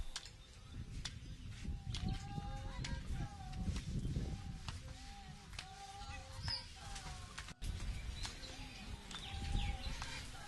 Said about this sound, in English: The smaller birds are sparrows, which were imported from Britain.